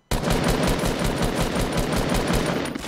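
Rapid automatic gunfire from the video game Fortnite, a dense burst of evenly spaced shots that starts abruptly and keeps going loud and close for nearly three seconds, with no voices over it.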